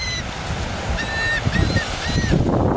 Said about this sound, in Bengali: অনেক পাখি সমুদ্রের পাড়ে, তো মানুষকে দেখেও ভয় পায় না